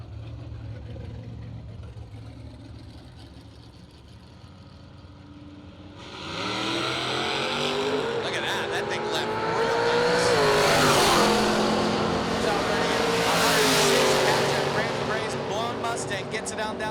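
A 1965 Mustang with a 355 and a 1965 Chevelle with a 350 launch at a drag strip, engines roaring loudly from about six seconds on and surging through two long revving pulls, with an announcer talking over them.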